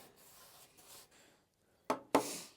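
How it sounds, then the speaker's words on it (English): A cheap, coarse brush floods finish onto rough sawn wood for a treehouse floor. It makes soft scratchy rubbing strokes, then two sharp, louder brush swipes close to the mic. "gnarly, cheap brush that helps flood everything on"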